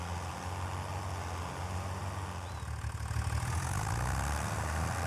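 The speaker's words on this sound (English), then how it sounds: "This is a new tractor, I think, in FS25, the John Deere 3650" A John Deere 3650 tractor idles in the Farming Simulator 25 video game with a steady low diesel rumble. It runs faintly and evenly throughout, with a slight rise near the end and no talk.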